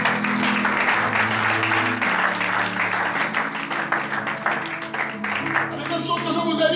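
A church congregation applauds and cheers steadily and loudly throughout, with voices mixed into the sustained clapping.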